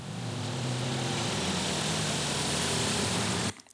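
A steady, loud engine drone runs continuously for several seconds, then cuts off abruptly near the end.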